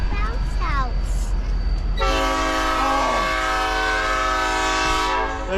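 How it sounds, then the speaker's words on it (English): A train at a Day Out with Thomas event blasts a long, loud, steady horn over a heavy rumble, close by, with a voice briefly heard just before. "The train is loud."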